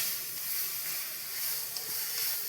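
Onions cook in a pan for a simple curry, stirred until browned, making a soft, continuous sizzling hiss at moderate level with no talk.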